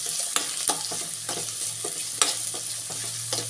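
Green chilli, beans, carrot and capsicum stir-frying for egg noodles, a steady close sizzle in the pan broken by sharp clinks and scrapes of the spatula at an uneven rhythm.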